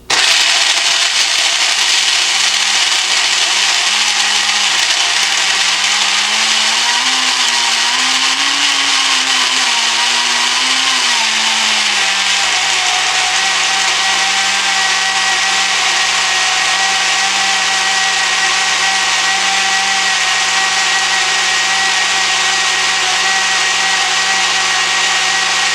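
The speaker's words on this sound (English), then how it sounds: "Does the Toastmaster personal blender work?" A Toastmaster personal blender motor running continuously for the whole stretch, a loud, steady close whine with a slight pitch wobble partway through and no voices.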